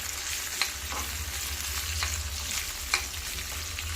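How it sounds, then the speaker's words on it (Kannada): Chicken curry masala frying lightly in a pan, a steady, fairly quiet sizzle with a low background hum and a few faint clicks of stirring, with no voices. "ಸೊ ಹೀಗೆ ಲೈಟಾಗಿ ಫ್ರೈ ಮಾಡ್ಕೊಳ್ಳಿ."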